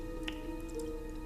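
Faint drips from a faucet, a couple of soft plinks over a low steady hum in a quiet indoor room.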